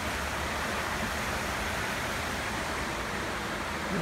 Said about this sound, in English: The sound of that water is amazing.